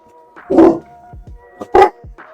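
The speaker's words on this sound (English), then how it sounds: "please bark again" A dog barks twice nearby, loud and sharp, with softer yips and whimpering noises between and after the barks.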